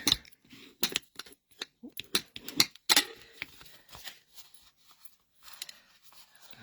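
A piece of card being folded both ways for a pop-out card, giving a run of crisp creasing and crackling snaps at close range, loudest in the first three seconds and then fading to softer rustles.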